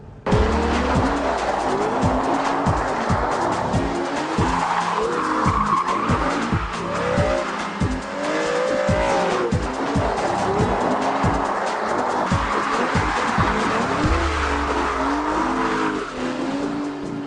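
An Aston Martin front-engine, rear-wheel-drive GT slides through a drift on a test track. Its tires squeal loudly in long wavering howls over a revving engine that rises and falls as the throttle is worked, with no talk.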